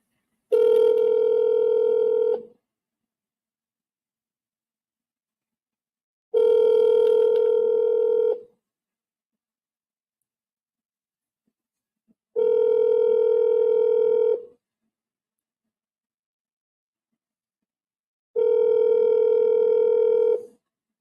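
A telephone line sounds a steady electronic tone in four evenly spaced bursts of about two seconds each, with silent gaps between them, clear and alone.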